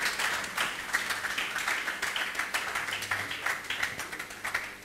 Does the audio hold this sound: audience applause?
yes